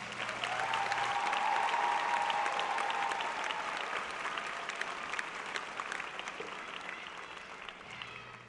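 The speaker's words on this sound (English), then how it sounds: "let's hear another round of applause for these candidates of graduation" A large audience at the Wilson High School 2014 graduation ceremony applauds the graduation candidates, a dense, sustained wash of clapping that starts strong and gradually thins and softens toward the end.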